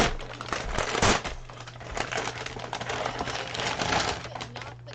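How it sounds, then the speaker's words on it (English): A bag of dinner being opened, steady close crinkling and crackling of plastic packaging with small sharp rustles, heard alone without talking. "I'm preemptively opening my bag of dinner before I eat it later on."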